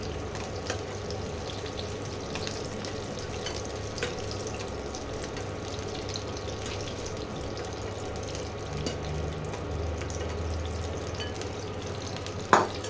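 Duck eggs frying in oil in a pan, a soft continuous sizzle with light crackles and occasional clicks of a utensil, fairly quiet and close.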